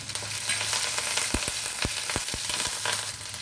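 Curry leaves sizzle and crackle as they drop into hot oil for a Telugu tempering with cumin already in the pan, a steady close fry broken by sharp pops.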